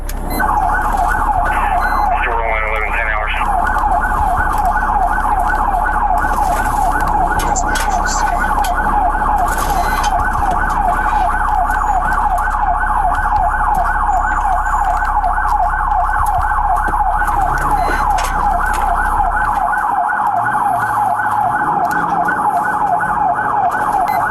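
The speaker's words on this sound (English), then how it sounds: "Despite lights and sirens" A police car siren wails steadily and loud throughout a pursuit through residential streets, its rising and falling tone continuous with engine and road noise beneath, dropping in low rumble near the end.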